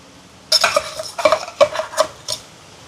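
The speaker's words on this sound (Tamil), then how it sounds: "இப்போ வெங்காயம் எல்லாம் வதங்கி கொண்டு வருது" Onions sautéed and stirred in a pan while mutton curry is cooked, heard as a run of close, clattering spoon strokes scraping and knocking against the metal, with short pauses between stirs and no talking.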